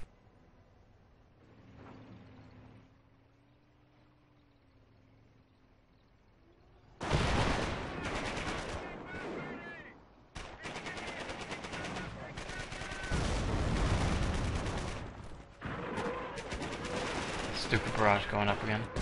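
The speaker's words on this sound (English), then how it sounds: "Stupid barrage going up again." Artillery barrage and gunfire in a 2v2 video game match: a quiet, low rumbling stretch gives way to loud, dense bursts of rapid gunshots and blasts. The firing continues with brief gaps until the end.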